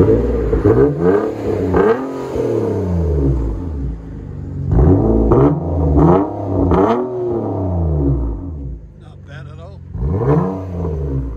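A 2013 Nissan Maxima 3.5L V6 fitted with Vibrant resonators revs loud and close in repeated sweeping blips, its pitch climbing and falling with short pauses between the revs.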